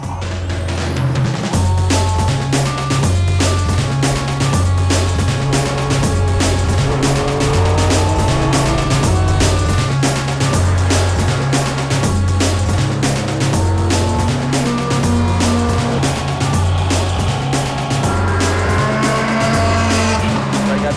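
An American muscle rental car pushed hard around a racetrack, its engine droning loudly and continuously with rising and falling revs and occasional tire squeal, set against a thumping rhythmic beat.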